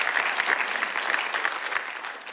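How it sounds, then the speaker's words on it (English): A church congregation gives a big round of clapping at a sermon on healing. The applause is steady and moderately quiet, a dense wash of many hands with no voices over it. "Give God a big clap"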